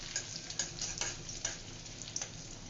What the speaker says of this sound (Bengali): শাক দিয়ে ডাল রান্না করতেছি, বাগার দিয়ে দিব এখন